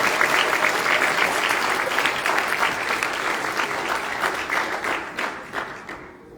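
Audience applause at a high school graduation celebration, a steady dense wash of clapping from many hands that fills the space and gradually thins and fades out near the end.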